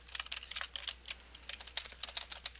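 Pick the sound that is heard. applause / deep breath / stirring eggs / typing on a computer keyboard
typing on a computer keyboard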